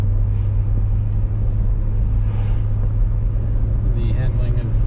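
A 2015 Jeep Grand Cherokee SRT cruises on the road, heard from inside the cabin as a loud, steady low engine and road rumble, with a voice speaking over it.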